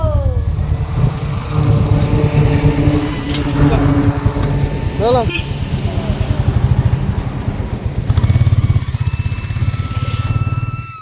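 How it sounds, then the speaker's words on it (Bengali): A motorcycle engine runs loudly and steadily nearby, its throbbing hum swelling as it revs, with voices heard briefly over it. "এবার বাইকে স্টার্ট দিচ্ছে, দিলেই বেরিয়ে পড়বো"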